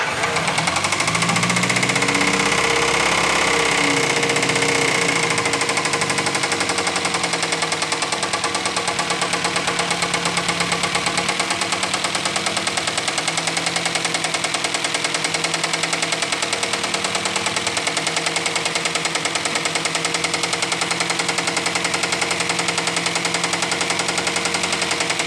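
An Austin-Healey Sprite engine, started for the first time in 10 years, runs with a steady rattling knock over a loud, continuous idle, close and harsh for the whole stretch, with a rougher start at the beginning.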